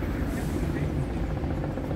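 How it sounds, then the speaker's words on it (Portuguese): A helicopter flies over the city of Recife, Brazil, its rotor and engine making a steady, fairly loud drone that holds through the whole short stretch. "Um helicóptero no céu do Recife."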